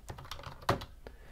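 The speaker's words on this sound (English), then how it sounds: "or I can start typing" Computer keyboard typing up close, a short run of quick, light keystrokes clattering in an uneven rhythm with no voice over them.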